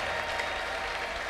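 A standing church congregation claps together, a dense, continuous wash of applause heard from within the crowd for a moment, with no speech over it.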